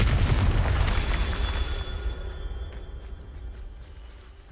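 Confringo spell explosion in Hogwarts Legacy, a loud, deep blast at the start that rumbles and slowly fades over several seconds with a faint ringing tail.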